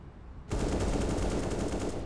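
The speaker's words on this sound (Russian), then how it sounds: "Стреляю" Close, loud automatic gunfire in CS:GO on the Overpass map bursts in abruptly after a short quiet moment and keeps up as a sustained rapid volley to the end.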